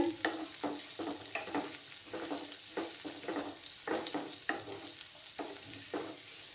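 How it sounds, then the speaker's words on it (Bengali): Onions frying in a pan for a spicy potato masala, stirred in quick repeated scraping strokes over a soft sizzle, close and rhythmic with no voices. "পেঁয়াজগুলোকে লাল লাল করে ভেজে নিতে হবে।"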